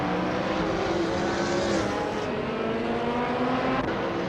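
2016 Mazda MX-5 Cup race cars in a racing game, engines droning steadily at high revs with a close, continuous whine and no distinct pass-bys.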